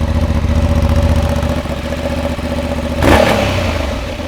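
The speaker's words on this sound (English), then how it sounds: "it sounds a lot more raspy." A 2023 Honda CB750 Hornet twin-cylinder motorcycle idles loudly with one exhaust pipe covered, giving a steady, rough, raspy beat, then briefly revs near the end before settling back.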